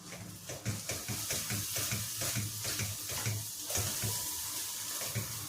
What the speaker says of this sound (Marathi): आणि वाटणाला चांगलं तेल सुटेपर्यंत आपण परतून घेऊयात 1-2 मिनिट